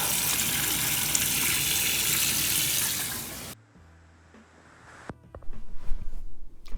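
An ice-dyed t-shirt is rinsed under a running tap: a loud, steady gush of water for about three and a half seconds stops abruptly, followed by quiet wet handling and a few soft clunks.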